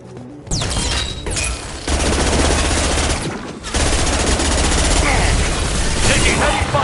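Heavy gunfire in Mass Effect 2 rattles in loud, dense automatic bursts, broken by short pauses. Combat noise and a voice come through under it.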